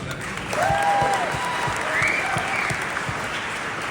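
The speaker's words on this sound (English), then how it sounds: "So round of applause for them." Audience applause for a speaker's family at a podcast-style talk, a few seconds of steady clapping with a faint whistle or squeak ringing over it.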